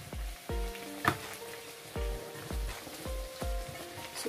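A poori deep-frying on its second side in oil over medium heat, with a light bubbling sizzle broken by a run of regular dull taps that ring briefly, close and fairly quiet, with no talking.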